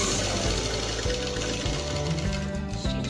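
A sewing machine runs steadily, stitching through folded, stacked fabric pieces for a patchwork samosa design, with a loud continuous mechanical whir and a rapid needle rhythm, close up with no speech.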